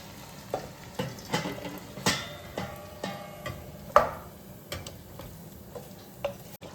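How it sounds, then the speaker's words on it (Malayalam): Beef curry simmering in a pot makes irregular pops and crackles over a soft sizzle. The sharp ticks come every second or so, with one louder burst midway. "ഇതിൽ കിടന്ന് തിളച്ച് വരട്ടെ."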